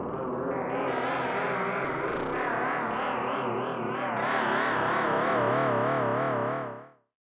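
A spatial chorus effect with feedback turned up swirls a distorted, sustained tone into wavering, warbling layers with a short bright burst partway through, then fades out cleanly at the end.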